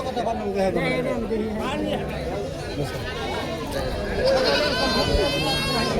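Goats bleating amid a busy goat and sheep market in Kaitla, Mirzapur, Tangail, heard under constant crowd chatter and nearby voices, the calls rising over steady hubbub.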